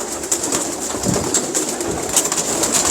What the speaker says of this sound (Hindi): बड़ी नायाब कबूतर है, पुराने कबूतर हैं